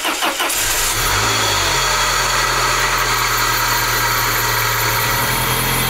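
A Peugeot 406, its gearbox freshly refitted, cranks briefly and catches, then settles into a steady, loud, close mid-pitched idle with a constant hum and slight vibration.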